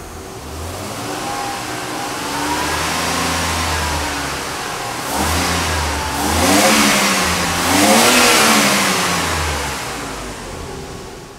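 A Mercedes R129 or R107 300SL with the M103 engine, checked for ignition problems, running close by as it warms up, a steady idle that swells twice into brief revs before settling again.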